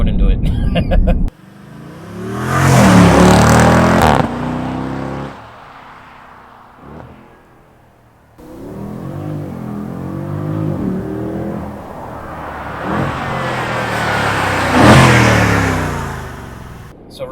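A 2020 Jeep Grand Cherokee SRT engine revs loudly up and down in two long surges separated by a quieter lull, close and powerful, with a brief sharp cut-off early on.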